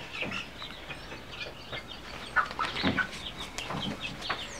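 A rooster and chickens cluck softly at a distance, several birds trading short calls over a quiet background with no talking.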